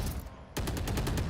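Rapid gunfire from a Valorant match in a pro esports broadcast, a burst of closely spaced shots cutting in after a brief lull, loud and dense over steady game ambience.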